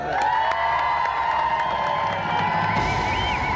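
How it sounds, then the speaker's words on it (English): A large studio audience at a video game TV show applauds and cheers continuously, with music playing underneath. "So let's give another round of applause for our 2 special guests, Roger Black and Dwayne Ladejo."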